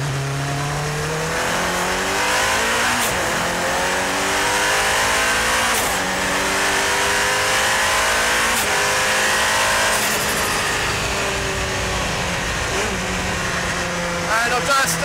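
A 1100 hp Nissan R90CK Le Mans race car driven on salt flats, its engine revving hard through rising and falling gear sweeps up to about 8,000 RPM, loud and close from inside the car, with a driver talking over it.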